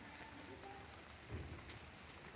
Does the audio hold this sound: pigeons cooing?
no